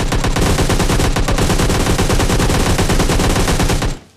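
Rapid automatic fire from SCAR and M4 rifles in the mobile battle royale game PUBG Mobile Lite rattles loud and continuous for about four seconds, with dense overlapping shots and no talk, then stops abruptly.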